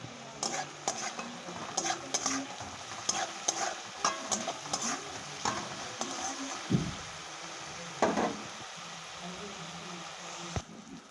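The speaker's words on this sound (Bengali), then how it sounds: "তো আমি কিছুটা আগে নুন দিয়ে দেবো, বেশ সুন্দর ভাজা ভাজা হবে।" Salted fish roe fries in oil in a home kitchen pan while a utensil stirs and scrapes it: a steady sizzle with repeated sharp clinks and taps against the pan.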